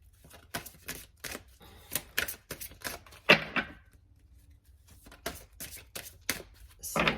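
Oracle cards from a guardian angel deck being shuffled by hand, a run of quick papery riffles and slaps, fairly close and moderately quiet, with no voice over them.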